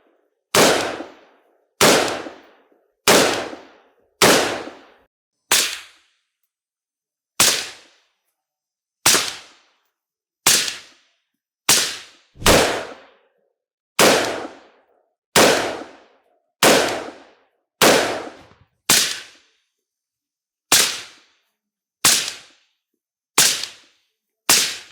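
Suppressed 5.56 rifle shots fired at 10 metres, about twenty loud sharp cracks spaced one to two seconds apart with short decaying tails and silence between, no voice.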